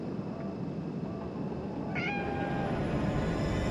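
A single short cat meow from the video game Conarium rises out of a busy, rumbling background about halfway through, fairly faint and synthetic-sounding.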